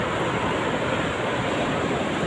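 Ocean waves wash onto the shore in a continuous loud roar of surf and spray, with no break across the short stretch and no voices.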